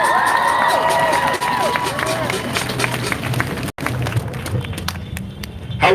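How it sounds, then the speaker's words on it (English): An outdoor crowd at a Boston rally over police brutality cheering and whooping for a speaker, with shouts and scattered claps over a steady crowd roar, and voices calling out above it. "A little bit louder, make some noise for Kurt,"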